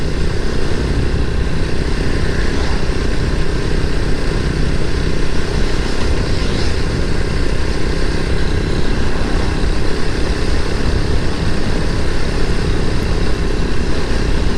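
Steady motorcycle engine drone while riding at about 60 on a long road in Cavite, continuous and fairly loud with wind rush, no talking.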